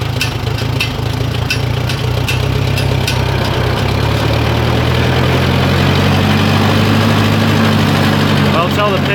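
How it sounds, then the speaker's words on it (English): A tractor engine running steadily on a farm, a loud, continuous low rumble held close for nine seconds with no clear talking over it. "I'm going to take the tractor back around to the front"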